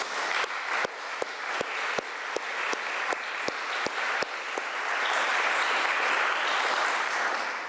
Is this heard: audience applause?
yes